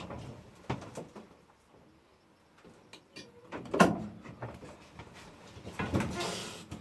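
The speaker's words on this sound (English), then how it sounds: "I'll pull the door over and see what happens" A shed door on an allotment pulled shut, giving a single louder knock and scrape midway through, with faint rustles, small bumps and outdoor ambience around it and no talk.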